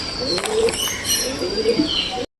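Pigeons cooing close by in a backyard coop, soft repeated low coos running through the clip over some twittering and background noise, no one speaking.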